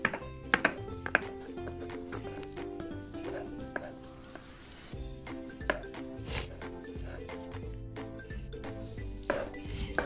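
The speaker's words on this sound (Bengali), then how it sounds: "এখন আমরা কাঁঠাল বিচিগুলো বাটতাছি, সিদ্ধ করা কাঁঠাল বিচি" Boiled jackfruit seeds being ground into a paste with chopped onion and green chillies, giving a steady run of scraping, knocking and clinking strokes on stone or utensils, fairly close, with no talk over it.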